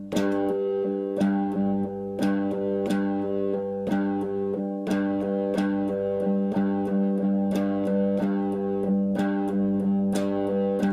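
A steady, repeating rock groove on sustained, heavily processed tones with regular accented hits, played alone without voices.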